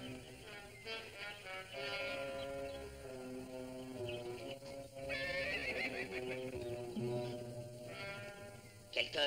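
Horses neighing and whinnying in a Zorro television episode, several drawn-out whinnies rising and falling one after another, fairly close, with a few bleat-like calls and faint hoof clops mixed in.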